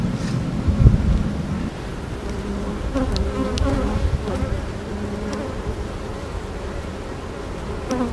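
A honeybee colony in an opened beehive, frames of brood being lifted out, gives a steady, close droning buzz that runs through the whole stretch with no talking.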